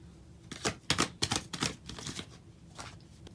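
Tarot cards are drawn from a deck and laid down, a quick series of crisp slaps and flicks close by, about seven sharp snaps in a loose rhythm followed by a softer one.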